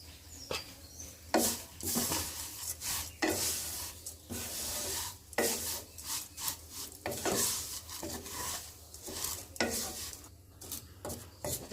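Semai vermicelli frying in a pan with two spoons of powdered milk, stirred in repeated scraping strokes that come in uneven bursts over a soft sizzle, with no talking.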